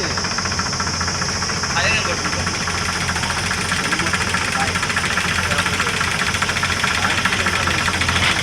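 A Powertrac tractor idles at a soil loading point where a JCB is loading, its engine giving a steady, throbbing mechanical drone that holds constant and moderately loud throughout.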